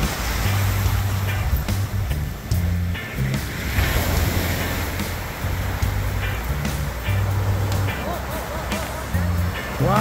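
Ocean surf at Mar Chiquita beach in Manatí, a steady loud wash of breaking waves with wind buffeting the microphone, continuous and close throughout.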